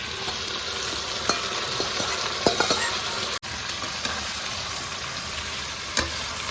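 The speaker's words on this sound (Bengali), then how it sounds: "এইবার এর মধ্যে আমি এই যে নুন, হলুদ আর সর্ষের তেল দিয়ে ম্যারিনেট করে রেখেছিলাম সেই মাংসটা দিয়ে দিই।" Mutton marinated with salt, turmeric and mustard oil goes into a pan of fried onions for a Bengali mutton curry. A loud, continuous sizzle fills the clip, broken by a few metallic clinks and scrapes of stirring.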